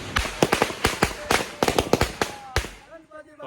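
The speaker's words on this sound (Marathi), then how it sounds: "फटाके बंद करा रे" Firecrackers burst in a rapid, irregular string of sharp loud cracks, close by, at a Ganpati arrival procession in Konkan, with a voice speaking faintly between bangs.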